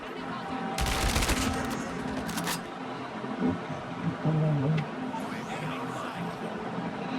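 Gunfire in the mobile shooter Call of Duty: Mobile, with bursts of rapid automatic shots early on, then scattered lighter game sounds and a low vehicle-like rumble underneath.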